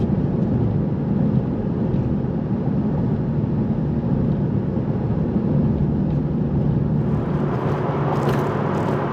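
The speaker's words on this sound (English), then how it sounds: "road noise all by itself." Steady low rumble of road noise from inside a moving car, a constant broadband drone with no voices.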